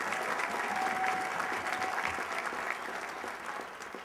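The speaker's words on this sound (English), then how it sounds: "Please give Henry a big round of applause" Audience applauding a speaker at a Pennsylvania AFL-CIO labor gathering, a steady, dense clapping that holds loud and even throughout with no break.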